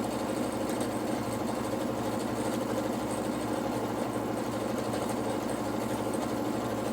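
A sewing machine stitching curves runs continuously at an even, rapid pace, a close steady mechanical hum and needle chatter with no talking.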